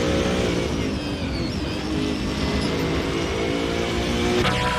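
GT4 race cars lapping Laguna Seca in a racing video game, a steady dense engine drone with rising revs and tyre noise, loud and continuous throughout.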